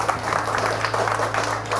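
Applause from a gathered audience at an Indonesian Buddhist dharma talk, a short burst of steady clapping that fills the room, with a faint low hum underneath.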